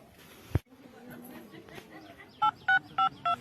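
Telephone number dialed on a phone keypad: four evenly spaced two-tone beeps close by, following a sharp click and some faint background talk.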